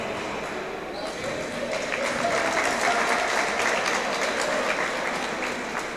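Applause from the home crowd at a KK Živinice versus OKK Čelik Zenica basketball game in Bosnia's A1 league, a steady wash of clapping filling the hall at moderate loudness throughout.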